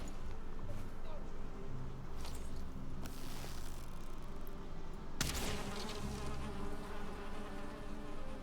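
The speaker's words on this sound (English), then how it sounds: "Wait, I hear bees." Bees buzzing around a beehive in the Valheim video game, a faint, steady insect drone beneath a person talking over it.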